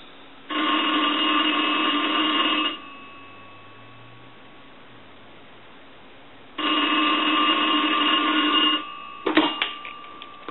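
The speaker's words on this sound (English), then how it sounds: "So we'll go ahead and ring the telephone." A 233G three-slot payphone's bell rings in two long, loud, steady bursts separated by a few seconds of quiet hum, followed by a brief clatter at the end.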